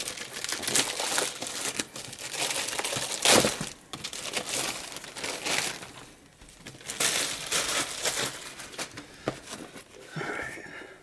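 Packaging of a Blue Yeti microphone being opened, with repeated crinkling and tearing of plastic and cardboard in bursts of varying loudness, close up and without speech.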